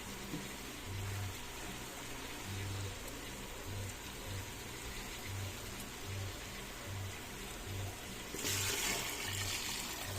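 Water pours steadily into a pot of pork being cooked into nilaga, a continuous splashing wash over a low pulsing background hum, growing briefly louder and brighter near the end.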